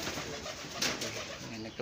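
Pigeons cooing and fluttering amid a steady background hum, with a brief burst of wing flaps partway through.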